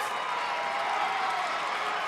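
A basketball arena crowd at a boys' high school regional final roars in a steady, loud wash of cheering that fills the space without letup.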